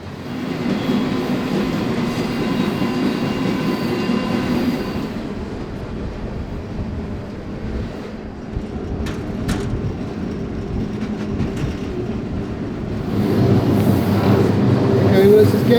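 Freight train rolling through a rail yard in Mexico, a loud continuous rumble and rattle of wagons close by with intermittent metallic clicks and squeals, swelling louder toward the end.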